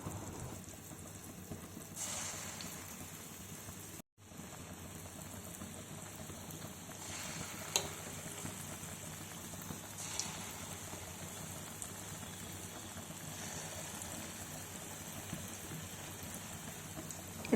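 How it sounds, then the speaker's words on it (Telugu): Mysore bonda batter deep-frying in a pan of hot oil, a steady close bubbling sizzle running throughout with a brief cutout and a few faint clinks, no talking. "ఆయిల్ వేడెక్కింది. ఇప్పుడు మనం బజ్జీలు వేసుకుందాం."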